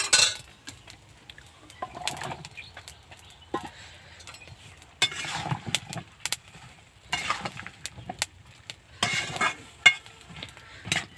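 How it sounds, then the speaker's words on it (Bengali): Eggplant pieces dropped into a pan over simmering Bengali curry, a scattered run of clinks, clatters and scrapes of utensils on metal with faint sizzling beneath, close and uneven. "এই মুহূর্তে আমি বেগুনগুলো দিয়ে ঢেকে দেব।"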